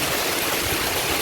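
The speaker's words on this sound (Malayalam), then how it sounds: "എന്തൊരു മഴയാ" Heavy rain pours down during a windy storm, a dense, even rushing wash that fills the short span without a break and with no other sounds.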